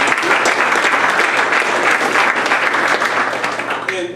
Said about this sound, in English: So let's give all those folks a round of applause too.